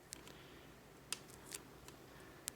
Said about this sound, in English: I usually don't record my shuffling